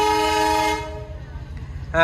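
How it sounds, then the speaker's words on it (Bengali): A train at a rural railway crossing blasts a loud, sustained horn, then a low rumble carries on as the train begins to move, with a brief louder burst at the end. "ট্রেনটি চলা শুরু করছে দেখতে পাচ্ছেন আপনারা"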